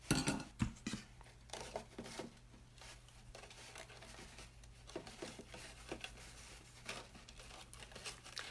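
Stiff tulle ribbon crinkles and rustles in repeated bursts while being tied into a bow around a stationery gift box, close and fairly soft against a steady low hum.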